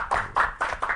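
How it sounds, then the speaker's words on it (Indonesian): A few slow, distinct hand claps at a campus discussion event about regional elections, four close claps in an even rhythm with no talk over them. "Tepuk tangan dulu dong"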